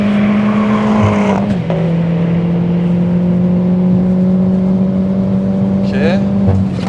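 A Peugeot 208 GTi is driven hard on a track, its engine a loud, steady high drone that dips briefly as revs shift, then climbs again near the end, heard up close from inside the car.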